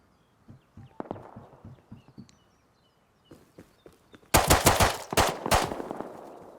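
Gunfire in the survival video game Rust: scattered footstep-like thuds, then a loud burst of rapid repeated shots that tails off into echoing reports, with no talking.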